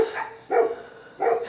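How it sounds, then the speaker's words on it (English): Dogs bark outdoors at sunset, three sharp barks spaced roughly half a second apart, loud and clear against a quiet background. "Except for the dogs barking."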